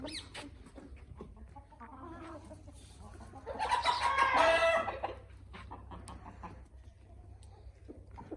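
Desi hens on a Punjab farm cluck and call softly over a low steady hum, with one louder, drawn-out squawk in the middle.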